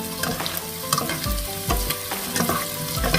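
Mixed vegetables and pork meatballs stir-fried in a pan, a continuous loud sizzle broken by several heavy scraping stirs at regular intervals, with no voices.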